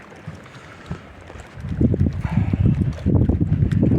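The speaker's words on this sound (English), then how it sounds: "right where the wind's blowing around the point." Wind blows over a cold February lake on Cumberland, rumbling and buffeting close to the microphone, gusting louder in the second half.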